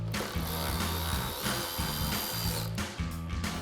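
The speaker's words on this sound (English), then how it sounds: "So we've got our 7mm shallow socket on our ratchet," A ratchet fitted with a 7mm shallow socket backs screws out of the front section of a 2005-2013 Corvette during a headlight install, giving a close, rapid buzzing whir in short repeated bursts that sounds like a powered ratchet.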